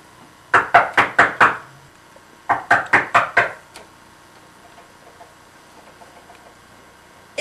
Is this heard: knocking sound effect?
yes